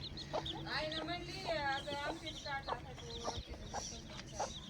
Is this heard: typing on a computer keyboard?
no